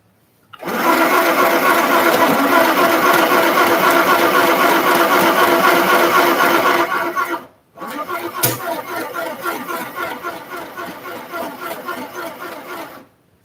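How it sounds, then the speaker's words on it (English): A sewing machine fitted with a buttonhole foot stitches a buttonhole, a loud, steady, rapid mechanical chatter running close for several seconds, then a brief stop and a second slightly quieter stitching run. "Now we're going to use our buttonhole foot to make a buttonhole."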